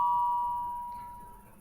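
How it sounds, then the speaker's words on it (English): A doorbell pressed in a first-person video game set at a mansion: a single clear electronic chime with a steady ringing tone that slowly fades out over under two seconds, with no voices. "Press doorbell."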